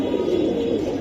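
Pigeons of a Giribaaz flying breed, kept for sale, coo softly in a steady low murmur that fills the whole second, with no talk over it.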